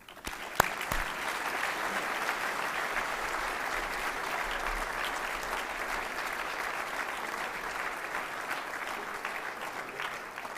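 Audience applause welcoming a speaker at a lecture, a steady sustained clapping from a full hall, moderately distant and even throughout after a sharp opening clap.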